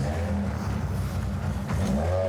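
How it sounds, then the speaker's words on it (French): Rally car engine revving a few metres from a neighbour's house, a loud low rumbling growl with brief rising revs, close and continuous. "Plusieurs fois par semaine, le bruit des moteurs retentit à 5 mètres à peine de chez sa voisine"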